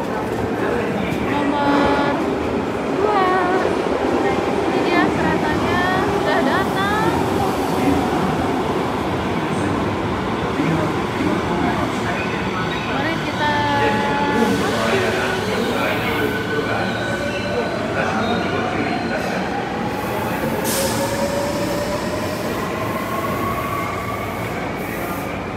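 Riding a train in Osaka, Japan: a steady interior rumble runs throughout, with rising and falling wheel squeals and motor whines as the train moves between stations, and voices occasionally heard over it.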